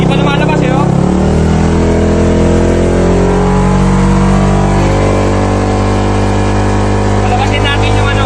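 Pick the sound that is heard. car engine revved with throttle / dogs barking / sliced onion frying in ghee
car engine revved with throttle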